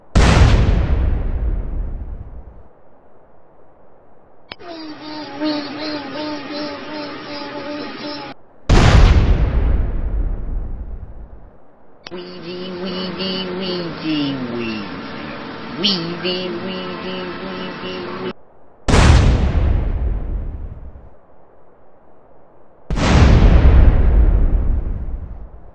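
Explosions in the video game GTA San Andreas: five loud, sharp booms, each decaying over a couple of seconds, separated by stretches of engine-like game noise, without speech.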